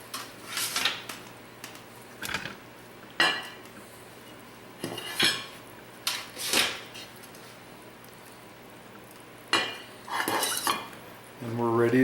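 Dishes and cutlery clatter in bursts while onion soup with bacon is plated up, sharp metallic clinks and knocks coming in several separate flurries with quiet pauses between them.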